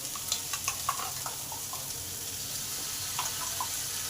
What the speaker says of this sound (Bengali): এবার ঝিঙেগুলো ভালো করে আলুর সঙ্গে একটু কষে নেব